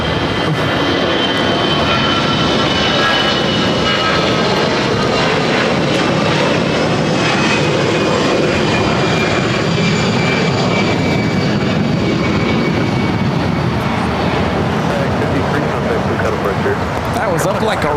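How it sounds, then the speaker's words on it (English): Corporate jet taking off at LAX airport, a loud sustained roar with rising engine whine filling the whole stretch, while a voice talks over it. "That's a corporate jet."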